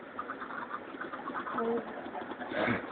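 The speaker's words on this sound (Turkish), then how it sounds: "Bunlar kuşlar." Birds cooing and chirping in a Minecraft soundscape, steady and moderately loud, with a brief higher call near the end.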